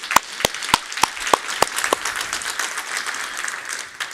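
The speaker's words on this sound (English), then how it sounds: "Let's give them an applaud already now." Audience applause for panelists at a democracy and rule of law symposium, a few loud near claps in a steady beat over a broader wash of crowd clapping that carries on to the end.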